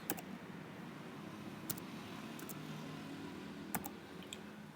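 A computer keyboard gives a few sharp, sparse clicks as a word is typed into an Excel formula, close and distinct over a steady low background hum, with no talking.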